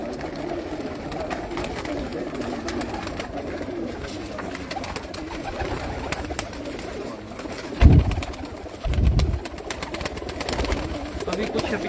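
Pigeons coo softly from a rooftop loft holding over a hundred birds, with a few louder fluttering bursts near the end against steady background hum.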